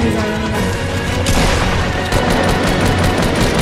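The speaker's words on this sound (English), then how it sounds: "I'm shooting him." Rapid gunfire in a mobile shooter video game, loud dense bursts of shots crackling continuously up close for a few seconds.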